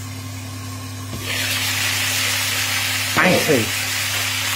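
Steak frying in a pan alongside cooked, sweated-down onions on Boxing Day, a loud continuous sizzle that starts abruptly and holds steady, with a brief stir or scrape and a short spoken word partway through.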